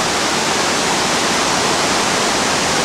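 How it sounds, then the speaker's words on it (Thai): Khlong Lan waterfall in Thailand pouring about 70 metres down a cliff face, a loud, steady, broadband roar of falling water with no pauses or voices. "เป็นน้ำตกที่สวยงามอลังการครับ"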